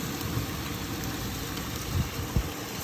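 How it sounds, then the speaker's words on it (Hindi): Heavy rain falls steadily on a cold, windy day in Birmingham, a dense broadband hiss that fills the whole clip, with a couple of brief low thumps near the end and no talking. "आज कितनी ज़्यादा बारिश हो रही है, इतनी ज़्यादा बारिश हो रही है।"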